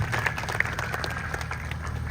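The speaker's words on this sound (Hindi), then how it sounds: "तो एक बार जोरदार तालियां प्रवीण जी को।" An indoor audience applauding at a public gathering, a dense wash of hand claps at moderate level with a few sharper individual claps standing out, sustained for the whole stretch.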